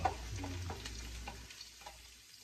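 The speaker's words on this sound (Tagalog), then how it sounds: "Tutustahin natin po siya. Ito ay bawang." A kilo of garlic toasting in a pan while being stirred, a soft steady sizzle with intermittent scraping strokes, fading slightly toward the end.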